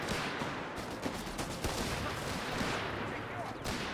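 British infantry in Company of Heroes 3 loose rapid bolt-action rifle fire, a dense crackle of distant overlapping shots under steady battle rumble, with a commentator talking over it.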